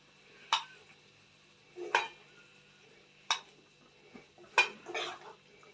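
A metal spoon scrapes and clinks against a pan as cauliflower fry is moved into a bowl, with five separate clanks spaced about a second apart, close and fairly loud with quiet gaps between them.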